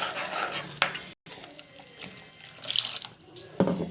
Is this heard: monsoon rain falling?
no